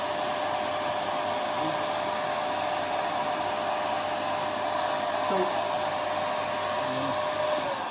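A Wagner paint sprayer, held very close to the surface, gives a steady, loud, even blowing hiss that runs without a break for the whole stretch.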